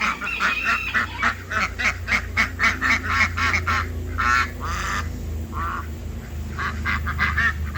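Ducks on a farm giving a rapid run of loud, nasal quacks and honks in quick bursts, close by, then scattered calls after a pause, against low background noise and no talk.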